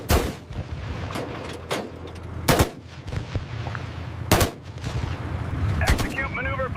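Loud bursts of tank gunfire during a gunnery drill: three heavy, booming shots spaced a couple of seconds apart, each cutting over a steady background rumble and clatter.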